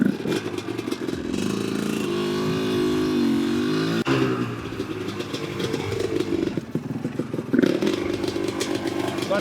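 A Yamaha YZ250 two-stroke dirt bike with a sticking clutch runs steadily at a buzzing idle with occasional blips and rattles, close by, while people talk over it.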